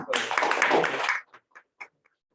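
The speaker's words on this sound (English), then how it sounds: "maybe a round of applause for all the participants" Meeting participants at a Toastmasters gathering give a brief round of clapping, close and dense for about a second before it trails off into a few scattered final claps.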